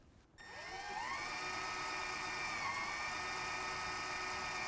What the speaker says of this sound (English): I'm going to drill a pilot hole there